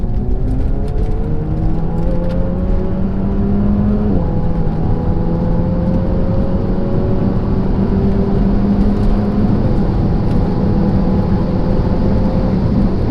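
Several Renault Megane RS hatchbacks, standard and modified, manual and EDC, accelerate hard side by side from about 40, engines rising steadily through a long pull as one draws ahead; loud, close engine drone throughout, no talking.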